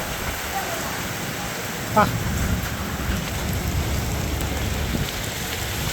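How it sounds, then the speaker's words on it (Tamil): Heavy rain from Cyclone Fengal pours down in Mudichur, Chennai, a dense, constant roar of falling water that stays loud and unbroken throughout, with a brief thump near two seconds. "மழை பயங்கரமாக அடித்து ஊற்ற ஆரம்பிச்சிருச்சு."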